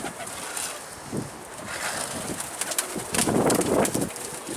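Pigeons coo softly at a loft while it is being cleaned, with repeated low cooing calls, light rustling and a few brief wing flutters at close range over a quiet background, with no talking.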